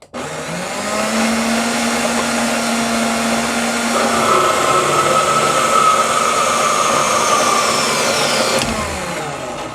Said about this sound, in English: Sure is nice having a bandsaw available.